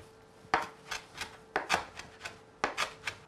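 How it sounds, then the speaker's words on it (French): A knife coarsely chops fresh coriander on a board. Crisp, close blade strikes come in three quick clusters of three or four cuts each, with nothing else audible. "je hache ma coriandre grossièrement"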